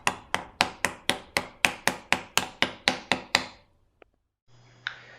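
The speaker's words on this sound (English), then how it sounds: "with a flat wood chop, tap softly to press it in" A new transmission input shaft seal is tapped into a Toyota AE86 gearbox with a flat piece of wood. About thirteen evenly spaced, close knocks are followed by a pause and a lone faint click.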